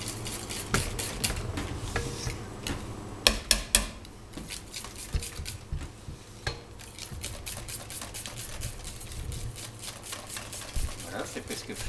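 A spoon stirring about 80 grams of butter into a warm soufflé mixture, giving soft scraping and clicking against the bowl in uneven strokes, with a few sharper taps, under a quiet room hum.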